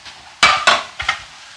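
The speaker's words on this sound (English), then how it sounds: "I try to clean as I go. That's what you hear me doing now." Dishes and utensils being cleaned during cooking, with three or four sharp clinks and clatters close by over a faint background sizzle.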